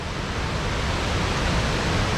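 Forest stream near Thommankuthu waterfalls, with water rushing and gushing in a loud, steady, close roar that fills the whole moment without pause.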